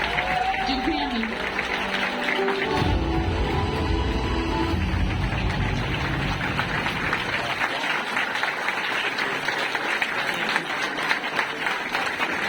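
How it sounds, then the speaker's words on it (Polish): Guests at a birthday gala in a Warsaw hotel applaud in a sustained, dense wave, with a voice speaking over the start and a brief burst of music or noise in the middle before the clapping carries on alone. "Wielkie brawa i też chwila dla fotoreporterów"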